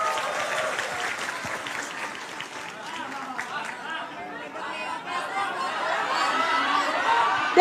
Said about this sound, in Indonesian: Tepuk tangan sekali lagi buat Antonius.